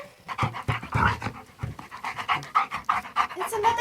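Doberman panting close by in quick rhythmic breaths while people talk and call to it over the top.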